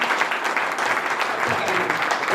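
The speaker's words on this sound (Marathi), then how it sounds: "सर्वांनी एका जोरात टाळ्या वाजवून" A room of old schoolmates at a reunion claps in a brisk, dense burst, a continuous patter of many hands held at an even level throughout.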